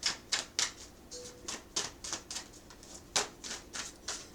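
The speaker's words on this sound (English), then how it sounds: "That's too much shuffling." Tarot cards are shuffled in quick, crisp riffles and snaps close to the microphone, a steady run of short bursts with a brief pause partway, quiet and alone without talk.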